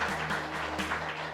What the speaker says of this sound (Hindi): सटीक उत्तर के लिए जबरदस्त तालियां।